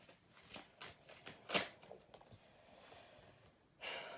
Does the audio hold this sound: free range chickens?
no